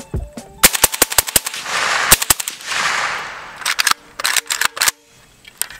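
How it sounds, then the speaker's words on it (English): A Q Fix rifle in 6.5 Creedmoor fires rapidly to empty its magazine at an outdoor range, a string of sharp, loud, closely spaced shots with a brief gap in the middle and no talking. "It's not a video without a mag dump."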